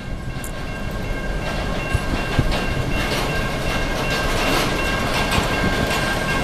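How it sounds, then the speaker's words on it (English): A long train rumbles steadily past a crossing on Swan Creek Road in Newport, Michigan, wheels clattering over the rails with a continuous loud roar and no talking. "Man, this is a long train."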